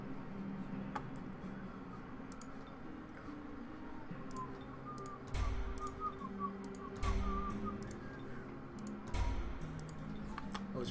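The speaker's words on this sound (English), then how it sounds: "I was whistling. It wasn't very good, though. I'm not a good whistler." A person whistles a simple tune over game music, the faint melodic line wavering in the middle, with soft ticks and a few low thumps around it.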